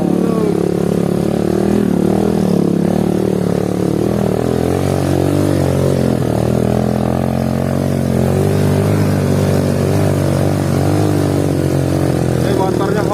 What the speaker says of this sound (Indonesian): Ini motornya Honda, guys. Supra Pit, tapi naik Supra Pit gunung.